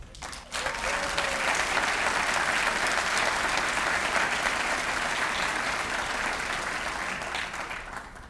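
An audience at a high school senior awards ceremony applauds a scholarship recipient, the clapping starting abruptly after a brief pause and continuing as a full, steady roar that eases slightly toward the end.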